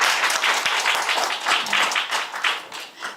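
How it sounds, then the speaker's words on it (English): An audience at a live event in Taipei applauds rock climber Alex Honnold, with brisk, fairly close clapping that swells and dips in loudness and fades slightly toward the end. "Yeah, you can clap for that."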